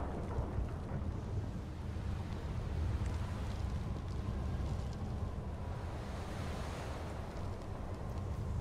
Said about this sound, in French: Tempête de sable